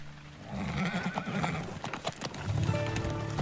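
A horse in the video game Teardown gives a clear whinny while hooves clip-clop in a steady rhythm, close and moderately loud, followed by a second neigh near the end.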